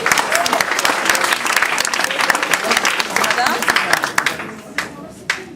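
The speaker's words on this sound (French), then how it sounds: "Madame Rochette, qu'on peut applaudir très fort." Audience applause at a school head-shaving challenge, loud dense clapping from a crowd that carries on steadily and then thins out and fades over the final second or so.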